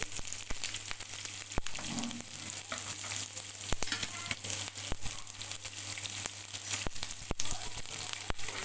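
Cumin, mustard seeds, chopped onion and green chillies frying in hot oil, a continuous close sizzle broken by sharp crackles and pops and occasional scraping stirs, with no voices.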